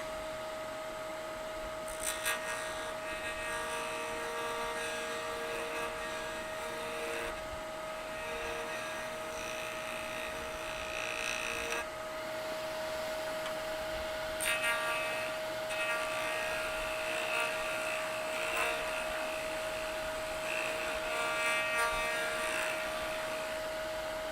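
A wood lathe running at full speed while turning a resin and aluminum shaving pen blank, giving a steady high whine with a constant humming tone that holds unbroken for the whole stretch, close and loud, with no talking.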